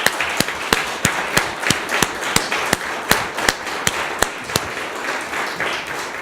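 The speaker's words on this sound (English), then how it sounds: "Let's have a big round of applause for our sponsors." An audience at the issuance event for the Nuremberg Declaration applauds its sponsors: sharp, evenly spaced claps stand out clearly over a softer wash of clapping, close and steady throughout with no speech.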